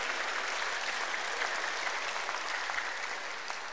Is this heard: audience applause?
yes